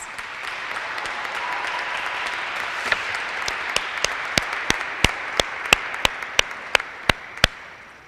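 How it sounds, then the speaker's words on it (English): Graduation ceremony audience applauding the graduates' families and supporters, a moderate steady patter of crowd clapping with one nearby person's sharp, regular claps standing out increasingly toward the end. "Graduates, look around at your support system and give them a round of applause."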